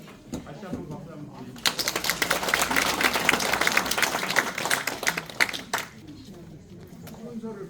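An audience claps in applause at the close of a hypertension diet lecture in a Korean church training session, a dense burst of clapping swelling from about 1.5 seconds and fading near the end, with speech around it.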